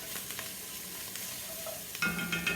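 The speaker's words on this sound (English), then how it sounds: "this is just going to saute here for a couple of minutes, and it's really fragrant with especially with the ginger" Ginger sautéing in oil in a pan, a steady soft sizzle with a few light stirring scrapes and a brief clatter near the end, close and quiet, with no talking.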